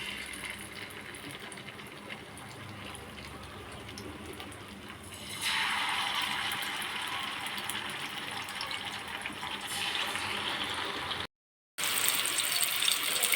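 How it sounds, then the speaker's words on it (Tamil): Masala-coated fish frying in hot oil on a tawa: a steady broadband hiss that swells sharply louder about five seconds in and continues strongly, with a brief dropout near the end; no voices. "நம்ம மசாலா கலந்து வச்ச மீனை எண்ணெயில் சேர்த்துடலாம்."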